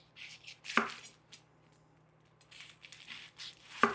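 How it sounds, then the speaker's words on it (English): A knife dices onions for southern-style onion rings, with two sharp isolated chops on a board separated by a long stretch of soft rustling and near silence. "I'm just gonna start dicing up our onion rings"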